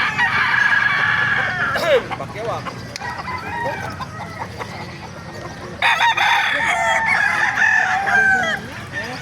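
Roosters at the Bocaue tiangge chicken market crow loudly and close, two long crows bracketing a stretch of clucking and rustling fowl, with people talking faintly in the background.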